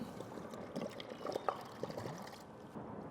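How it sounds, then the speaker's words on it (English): Water poured from a jug into an emptied marinade bottle to rinse it for green chile chicken enchiladas, a steady splashing fill with light bottle sloshing, close and moderately quiet with no talk. "So we'll rinse out the bottle."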